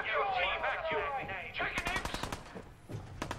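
Rapid automatic gunfire in the Fallout 4 video game rattles out in a quick burst of sharp shots following a stretch of talking, with a few louder single shots trailing after.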